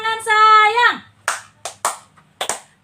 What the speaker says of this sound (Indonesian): Tepuk tangan sayang.